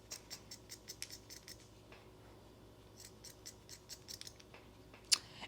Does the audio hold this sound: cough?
no